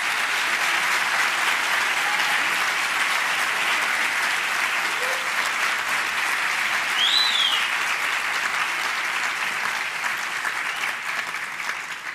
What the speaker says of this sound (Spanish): Un fuerte aplauso nuevamente para nuestros bachilleres